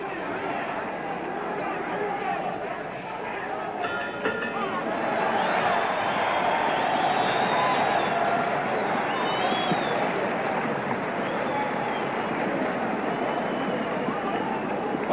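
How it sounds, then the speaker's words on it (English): A boxing crowd at a Las Vegas title fight roars steadily through round 13, a dense, sustained wall of cheering that swells slightly midway and stays loud throughout, with a commentator's voice over it. "Well, the crowd is roaring."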